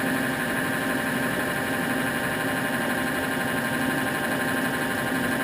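A Blanchard 18-36 rotary surface grinder with a 25 horsepower spindle on 230 volt three-phase power running steadily, a constant humming drone with tonal whine, no voices.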